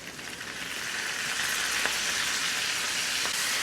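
Spinach sizzles and hisses in a frying pan with olive oil and sun-dried tomatoes, a steady bright crackle that swells slightly after the first second and holds, with faint stirring clicks.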